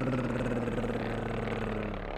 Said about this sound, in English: Oh, it's a plane.